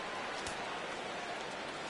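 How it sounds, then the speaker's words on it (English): Steady rain falling over a baseball stadium during a game, a constant soft hiss of drops with no other distinct sounds. "the rain continues to fall here"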